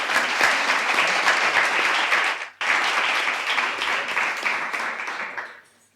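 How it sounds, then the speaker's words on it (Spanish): An audience at a book presentation applauds a participant in a dense burst of clapping that breaks off briefly partway through, then resumes and gradually fades out over the final seconds. "Por favor, un aplauso para Héctor."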